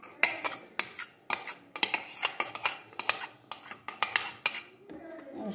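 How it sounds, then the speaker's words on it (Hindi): A spoon mixes green chutney into yogurt in a bowl, producing a rapid series of sharp metallic clinks and scrapes against the sides, close and distinct, with brief pauses between strokes. "इसको हम अच्छे से मिक्स कर लेते हैं।"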